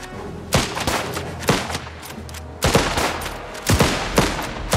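Machine gun fire in the video game Last Train Home, several rapid bursts of crackling automatic shots, loud and close, separated by brief pauses.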